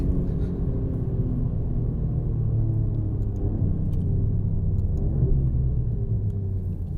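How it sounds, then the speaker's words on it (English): An Alfa Romeo Giulia QV launches hard, its engine holding a steady, loud low rumble from close inside the cabin for several seconds with no talk. "this car launches a million times better without the electronic differential"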